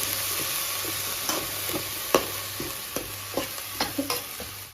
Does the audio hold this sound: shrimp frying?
yes